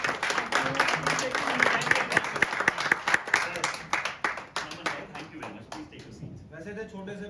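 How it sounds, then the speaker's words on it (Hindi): An audience at an indoor business training meeting claps loudly and steadily, a dense crowd of hands, with voices over it, thinning out and fading toward the end. "तो हम एक बार जोरदार तालियां बजाएं।"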